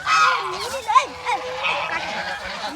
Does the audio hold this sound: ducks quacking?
yes